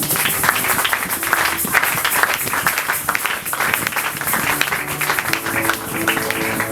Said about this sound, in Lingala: acclamez très fort pour le Seigneur